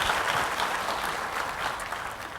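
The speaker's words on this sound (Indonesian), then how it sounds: "Beri tepuk tangan yang meriah buat Tuhan" Steady, fairly loud applause fills a church service as the congregation claps for God, an even wash of clapping with a faint crowd murmur beneath.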